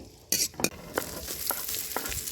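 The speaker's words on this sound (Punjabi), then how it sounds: "ਤੇਲ ਵਿੱਚ ਆਪਾਂ ਲਸਣ ਪਿਆਜ਼ ਪਾ ਕੇ ਤੜਕਾ ਲਗਾਵਾਂਗੇ" Garlic and onion sizzle in hot oil with a few sharp bursts as they hit the pan, followed by quieter stirring and crackling.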